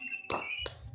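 Two sharp hand claps, spaced about a third of a second apart, ring out close by in a room with faint background murmur, part of a group clap during an online class session with Indonesian teachers.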